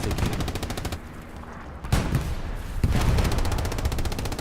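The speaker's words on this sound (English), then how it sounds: "Artillery strikes falling on the front line here." Artillery strikes and heavy gunfire pound the front line at Utah Beach in Hell Let Loose, a large 49-versus-49 battle, with rapid automatic fire throughout and loud booming impacts close by.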